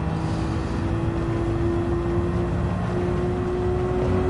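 Honda NSX engine in Gran Turismo 7 drones at a steady, loud pitch, a sustained close mechanical hum with road and wind noise around it.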